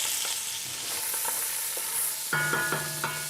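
Chopped carrots, celery and onion sizzle in a pan for a pork rib guazzetto, a steady close hiss that grows denser near the end with a few light stirring knocks.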